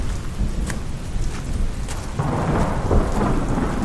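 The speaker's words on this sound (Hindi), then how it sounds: "आज दोपहर से बारिश हो रही थी," Thunder rumbles low and steady beneath falling rain for a rainy-night horror story scene, the downpour swelling louder and fuller partway through, with no voices.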